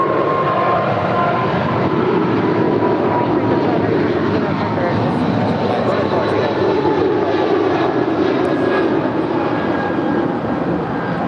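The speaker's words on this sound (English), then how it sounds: "This is United Airlines 2335 Heavy departing to New York Liberty. It's a 24-year-old 777-200ER." United Airlines Boeing 777-200ER, a 24-year-old widebody jet, departing LAX with a loud continuous engine roar and broadband rumble at close range, with speech heard over it.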